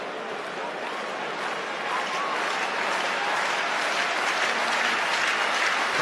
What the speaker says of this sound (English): Crowd as animated as they've been at any stage during the evening.